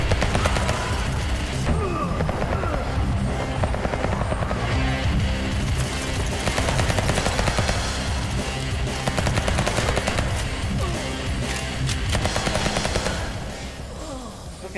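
Dense, rapid gunfire from the VR shooter Hard Bullet, continuous automatic bursts with overlapping shots and impacts at steady high loudness, easing slightly at the very end.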